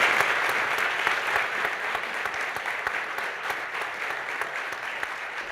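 An audience applauds to welcome panelists at a political discussion event, a full, even burst of clapping that gradually thins and softens over several seconds, with no talk over it.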